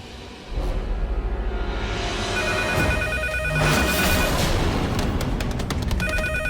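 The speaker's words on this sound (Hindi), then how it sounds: "ये पागल खाने वाले लैंडलाइन पे फोन कर रहे हैं" A landline telephone rings loudly in repeated electronic trills over a busy, noisy background, the rings continuing without a voice.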